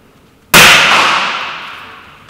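A Hatsan 900x break-barrel spring air rifle fires a pellet, giving one sharp, loud crack up close, followed by a long ringing decay with a faint tap at the end.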